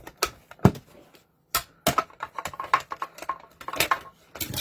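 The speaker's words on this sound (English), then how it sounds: "So let's bring in our mini die cut machine." A mini die cut machine about 3¼ inches wide feeding paper through, heard as a close run of irregular clicks, taps and rattling mechanical bursts separated by brief pauses, with no voices.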